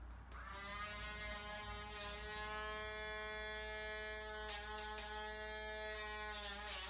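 A Dremel rotary tool grinding a dog's nails, a steady high-pitched motorized whine that holds throughout, with brief scratchy bursts where the bit meets the nail; quiet overall, with no speech.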